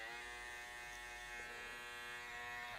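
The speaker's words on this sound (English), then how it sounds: "soften the line by doing clipper over comb" Electric hair clippers buzz steadily and close up throughout during a basic men's haircut, cutting hair with the clipper-over-comb technique, the motor tone holding even with slight shifts in pitch.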